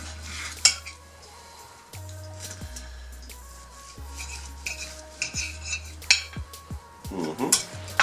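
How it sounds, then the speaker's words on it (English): Knife and fork scraping and clinking against a plate while cutting into a steakhouse steak, with several sharp metallic taps and scrapes at irregular intervals, close and fairly quiet. "Now I can go ahead and cut into this steak."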